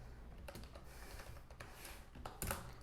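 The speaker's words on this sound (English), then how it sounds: "I just type here the basic command" Quiet keyboard typing heard up close, a few scattered keystrokes and small clusters of clicks over a soft background hiss.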